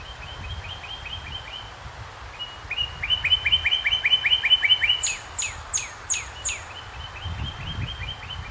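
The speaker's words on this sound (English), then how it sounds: "as you can hear here, you get birds calling back and forth to each other" Several birds call back and forth outdoors, trading bright repeated chirps and trills in bursts, one series of high rapid notes after another, fairly close against a quiet background.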